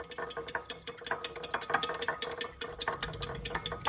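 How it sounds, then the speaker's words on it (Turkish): Eggs and milk whisked together in a bowl, a quick run of light clicking and scraping strokes at an even pace, close up and moderately loud. "bir miktar süt şöyle koyuyoruz. Yumuşatması için ve karıştırıyorum"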